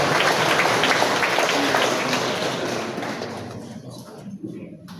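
Church congregation applauding at an anniversary Mass, dense close clapping from many hands that tapers off over a few seconds into a quieter hall.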